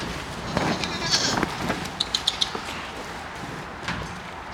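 A goat bleats briefly in a quiet outdoor setting, followed by a few short sharp knocks and faint rustling.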